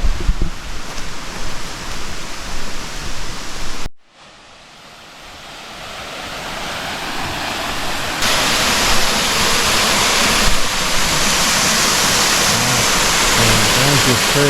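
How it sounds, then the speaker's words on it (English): A waterfall in Bali roars as a dense, steady rush, dropping briefly after a cut and then swelling louder and fuller as if getting closer. "There's your first little waterfall"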